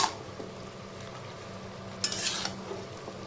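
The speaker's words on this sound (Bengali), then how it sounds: "এবার সব কিছুকে এখন খুব ভালো মতো মিশিয়ে নেব।" A utensil stirs and scrapes vegetables with chili powder, turmeric and salt in a pan, soft rubbing strokes with a brighter scraping burst partway through, close and fairly quiet, no talk.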